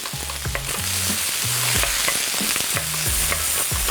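Apple slices fry and sizzle in a pan, a constant close sizzle broken by repeated scraping stirs every half second or so, with no voices.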